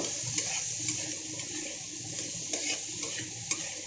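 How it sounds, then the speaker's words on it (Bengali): Vegetables fry lightly over low gas in a pan while cooking pulao, giving a steady soft sizzle with faint stirring clicks and small scrapes throughout. "এখানে সবজিটাকে আমি বেশ হালকা করে একটু ভেজে নেব, গ্যাসটাকে কমিয়ে রেখেছি।"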